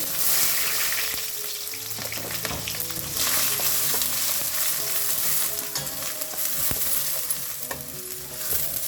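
Finely chopped onions sizzle and crackle steadily over high flame in a heavy-bottomed pan, with occasional stirring scrapes and clinks, close and continuous with no talking.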